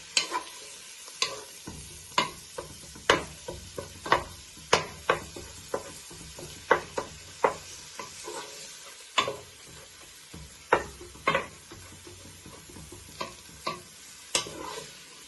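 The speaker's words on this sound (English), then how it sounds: "So you just keep breaking it down with the back of your wooden spoon and stirring it." A wooden spoon breaks up and stirs mince frying with mushrooms, onion and garlic in a pan, giving a run of sharp, irregular knocks and scrapes over a soft continuous sizzle, close and with no talk.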